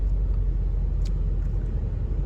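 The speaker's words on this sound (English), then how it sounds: "They're emptying out the garbage at the dumpsters." Green sanitation truck emptying garbage at dumpsters, heard as a steady low engine rumble from the idling truck with a few faint clanks and hisses over it, fairly close and constant.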